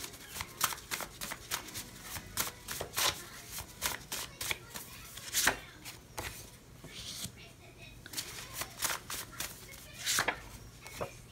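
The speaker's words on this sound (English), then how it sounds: "let me actually pull a few cards from here first real quick" Oracle cards are shuffled and pulled, giving repeated crisp riffling snaps and soft slides in irregular bursts, close and fairly quiet, with soft speech faintly underneath.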